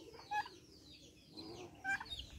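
Poultry on a small farm with turkeys, geese and chickens, two short clucking calls standing out against quiet outdoor background, one near the start and another late, fairly faint and close.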